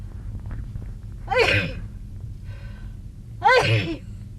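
Judy sneezes twice during a car trip, a few seconds apart, each a sharp close burst with a quick intake before it, over a low steady engine hum.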